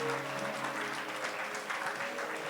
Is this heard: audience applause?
yes